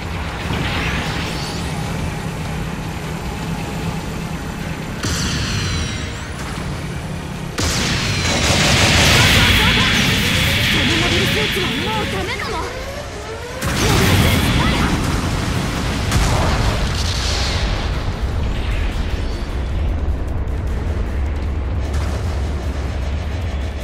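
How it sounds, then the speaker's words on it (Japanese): Support artillery bombardment in Gundam Battle Operation 2: repeated heavy booms and rolling blasts with crackling debris, loud and sustained, broken by a brief lull midway, with in-game radio voices speaking over it. "後方部隊からの支援砲撃、来ます。"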